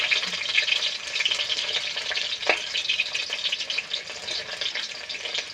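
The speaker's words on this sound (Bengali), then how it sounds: "পুরো তেলের মধ্যে এটা ভাজছি গোটা পেঁয়াজ" Steady, close sizzling of onions frying in oil, a dense hiss with one brief knock midway, and no voices.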